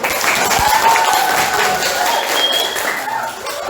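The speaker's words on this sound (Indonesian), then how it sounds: "Give applause first." A class of students applauding together during an English teaching practice lesson, a dense, steady patter of clapping that fills the room, with voices mixed in.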